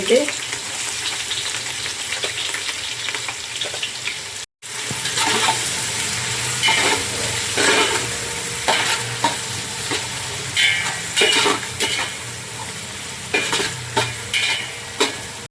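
Onions and curry leaves frying in hot oil in a pan for a Kolhapuri-style mutton curry, a loud continuous sizzle with repeated scraping stirs, close up and without talk.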